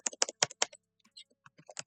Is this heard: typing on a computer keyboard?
yes